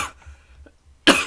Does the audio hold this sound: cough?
yes